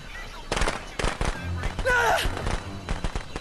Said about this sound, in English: Hang on, I got firecrackers.